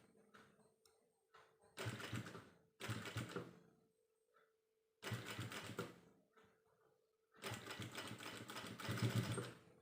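A sewing machine stitching a churidar neck runs in four steady bursts of rapid mechanical chatter, each a second or more long, with short quiet pauses and faint handling between them.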